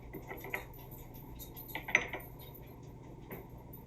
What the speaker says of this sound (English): Pick up the spoon.